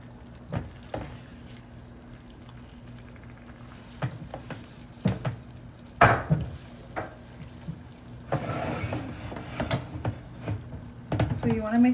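Cajun shrimp and sausage pasta being stirred in a pan, intermittent scraping and clinking of a utensil over a soft sizzle, with a voice talking throughout.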